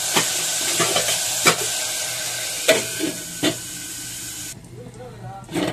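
Taro (chamagadda) curry fries in oil in a covered pan, giving a steady sizzling hiss broken by sharp spatters and clinks, then the sound dulls and quiets near the end.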